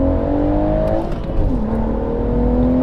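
A BMW 140i with a manual gearbox and rear-wheel drive accelerates hard in fourth gear, its engine note climbing steadily and loudly, continuous and close throughout with a brief dip partway as the pitch resets and rises again.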